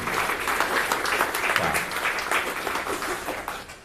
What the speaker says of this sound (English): So, round of applause for Nate